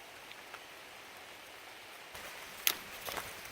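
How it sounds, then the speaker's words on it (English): Rain falls on the Appalachian Trail in the Grayson Highlands as a faint, steady patter, with a few sharper drips and rustles toward the end and no voices. "It's started raining a bit more"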